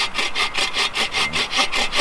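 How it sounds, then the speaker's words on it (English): Steady back-and-forth hand sawing through wood at an outdoor bushcraft camp, about ten rhythmic rasping strokes, close and fairly loud, with no talking. "This is called lazy sawing."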